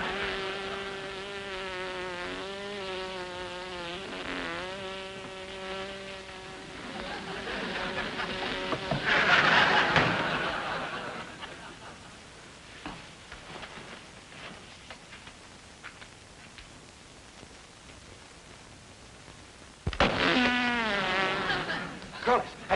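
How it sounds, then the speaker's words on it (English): A bee buzzes close by in a room with a droning, wavering hum that fades in and out, returning briefly at the end. "There's a bee in the room."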